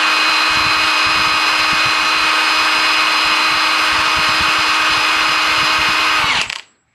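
Impact wrench driving a socket during Ford Focus engine and transmission removal, a loud, sustained high-pitched motor whine held steadily before spinning down and cutting off.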